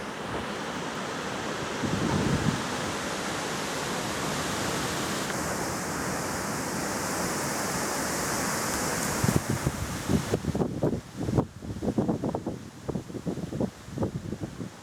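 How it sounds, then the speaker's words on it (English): Strong outdoor wind roars across the microphone as a constant heavy rush, growing gustier and more buffeting toward the end. "there's quite a bit of wind"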